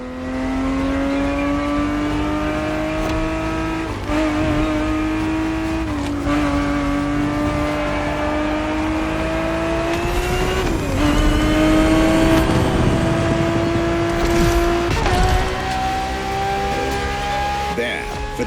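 A Ferrari 365 GTB4 in The Crew Motorfest races with a loud, sustained engine drone whose pitch climbs steadily, broken by several gear-shift dips. A voice talks over part of it.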